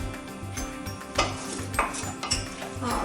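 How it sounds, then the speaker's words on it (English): Eggs being stirred and scrambled in a pan while making farmhouse potatoes and eggs: a utensil scrapes and clinks in a steady back-and-forth rhythm over a soft, continuous sizzle, close and clear, with no voices. "Mixing up the eggs, getting them all scrambled."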